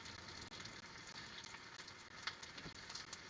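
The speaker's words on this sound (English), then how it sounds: "So the sizzling sound means it's not so frozen" Faint, steady sizzling hiss of frozen raw chicken frying in oil in a pan on low heat, continuous with small crackles and pops, no voices.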